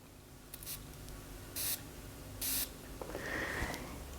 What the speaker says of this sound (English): I'm gonna spray Exalt Nuit on me.